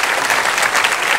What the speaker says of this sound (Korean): 박수로 한번 축하합니다.